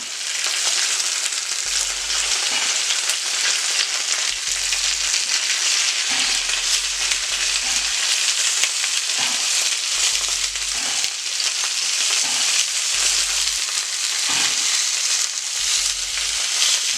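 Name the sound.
Italian sausages sizzling in a frying pan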